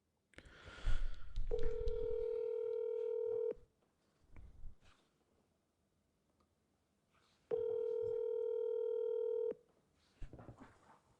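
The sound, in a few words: telephone call dial tone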